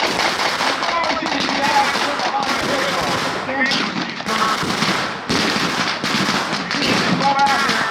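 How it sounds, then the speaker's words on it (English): Mortar and small-arms fire at a D-Day battle reenactment beside a WWII landing ship, a dense run of sharp cracks and bursts over roughly eight seconds, loud and near, with a brief lull in the middle. "We have the Heinz mortar. That's what they're deploying against the GI."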